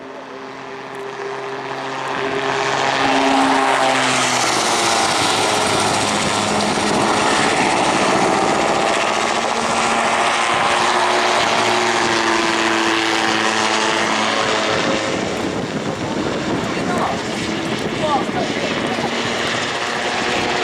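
Autogyro flying display at an airshow, its engine and propeller droning loud and steady throughout while it is thrown around the sky, with faint commentary talk beneath.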